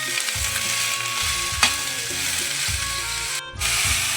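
Ivy gourd (tondli) sautés in a pan, with a steady sizzle and repeated scraping stirs in a loose rhythm and one sharp knock near the middle.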